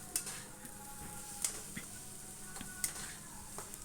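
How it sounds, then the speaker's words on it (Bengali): Thick taro (kochu) paste being stirred steadily in a pan, with soft scraping and light ticking of the spoon against the metal recurring every second or so, faint and close. "এভাবে সমানে নেড়ে নেড়ে যেতে হবে যাতে আবার তলা থেকে নেড়ে না লেগে না যায়"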